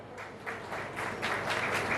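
An audience at a youth event claps for the convener and volunteers, a steady fairly close patter that builds slightly louder toward the end, with no talk over it.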